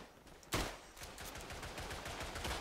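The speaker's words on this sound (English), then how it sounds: "Ah, machine gun." Faint machine gun fire in the World War I shooter Tannenberg, set in an Austrian swamp battle: one louder shot, then a low rattle of distant rapid fire running steadily underneath.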